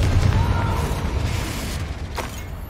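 Confringo, a blasting fire spell in Hogwarts Legacy, goes off as a deep booming burst over continuous game background noise, followed by a short sharper crack later on.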